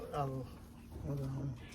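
A large male racing pigeon coos twice in low, soft, rolling phrases, close by and fairly quiet.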